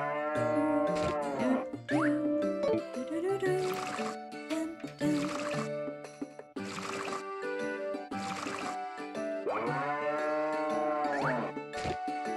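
Cows moo on a farm in the Harvest Moon: Tale of Two Towns game, heard as repeated long calls over a busy layer of tonal game music, with no talking.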